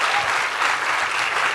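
Studio audience at a televised talk event claps loudly and continuously for a brief moment, a dense burst of applause with no voices over it.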